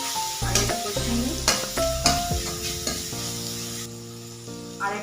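Boiled dal sizzles as it is stir-fried with cumin, coriander, chili and turmeric, giving a bright crackling hiss with repeated stirring scrapes beneath prominent background music.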